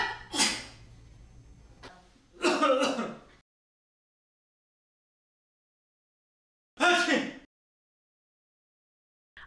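Three separate bursts of coughing or throat clearing sound close up, with long silent gaps between them.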